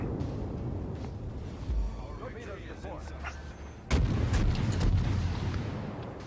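Main guns of the Japanese cruiser IJN Chikuma booming in a World of Warships naval battle, a couple of deep heavy blasts with a loud salvo near the end, over a steady low ocean and engine rumble.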